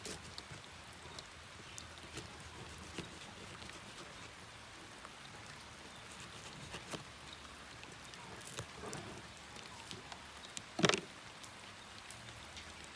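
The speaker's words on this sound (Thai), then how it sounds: "ฝนตกเลยนะครับ" Rain falls outdoors in a durian orchard, a soft, steady patter of drops with scattered sharper taps and one brief louder knock near the end, all fairly faint and without speech.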